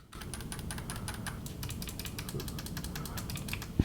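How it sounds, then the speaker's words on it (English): Clicky tactical buttons and bumpers on a PS5 Rise 4 Plus controller are pressed repeatedly in quick succession. The sharp, crisp clicks come close and distinct over a low background hum. "this will allow you to have clicky buttons like this, including the bumpers"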